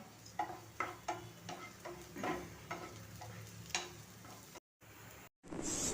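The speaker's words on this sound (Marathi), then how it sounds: "कांदा थोडासा ब्राऊन कलर येईपर्यंत भाजून घ्यायचा" Chopped onion frying in a pan until browned for appe, with a soft steady sizzle under a series of spatula scrapes and taps, then brief dropouts and a louder burst of sizzling at the end.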